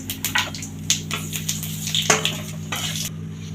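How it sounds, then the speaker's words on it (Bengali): Bengali five-spice seeds crackle and sizzle as they temper in hot oil in a pan, with scattered sharp pops and utensil clinks over a low steady background hum. "এখানে 5 ফোড়ন নিয়েছি, ফোড়ন দিয়ে দিলাম।"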